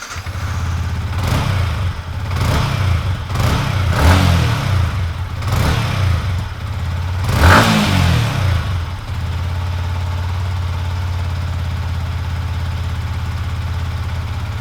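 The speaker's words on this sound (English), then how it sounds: "We'll start by warming the bike up just a little." A Yamaha YZF-R15 motorcycle engine warms up, with a few short throttle blips and revs early on, then it settles into a steady, close idle through to the end.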